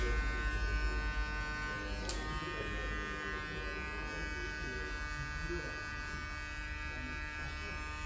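Electric hair clipper buzzing steadily while cutting a man's hair in a barber shop, a close, continuous hum with a brief click near the start.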